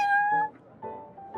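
A cat in the video game Genshin Impact gives a short, clear meow followed by two softer meows, all close and heard alone over a quiet background.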